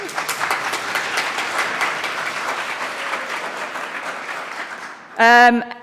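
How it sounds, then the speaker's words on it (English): A conference audience at PyCon UK 2023 claps and cheers steadily, with a loud, close whoop bursting out near the end. "again, whooping and cheering"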